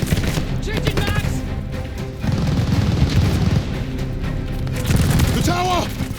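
Battlefield gunfire in the World War II shooter Call of Duty: Vanguard, with a tower machine gun firing steady bursts and heavy booms throughout, loud and close, under shouted voices of soldiers.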